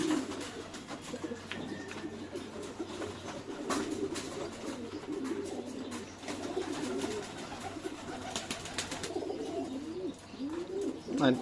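Racing pigeons coo repeatedly in soft, rolling calls amid a busy coop on a pigeon farm, with scattered rustles and flutters, fairly faint and at moderate distance.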